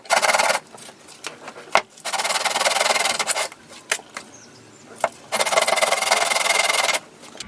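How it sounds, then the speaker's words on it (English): Coarse sandpaper is rubbed in long, loud, harsh strokes, several bursts of a second or more with short quiet gaps and light taps between them, close up with no talking. "We can go a bit faster with a thicker sandpaper."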